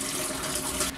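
Hot rinse water is dumped out of a glass jug that was just sterilised for home brewing, giving a brief, full splashing pour that cuts off abruptly.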